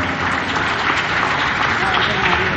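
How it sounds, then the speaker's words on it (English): A large audience at an event for Rio Olympic medal winners at the Gopichand Academy applauds steadily for PV Sindhu, a dense wash of clapping with crowd noise throughout. "Can I hear a big round of applause"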